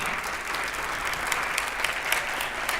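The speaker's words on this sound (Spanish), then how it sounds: "Aplausos, por favor. Para ellos, no para mí." Audience applause rings out at a Spanish-language event, a dense, steady patter of many hands clapping at even loudness, with a few sharper claps standing out near the end.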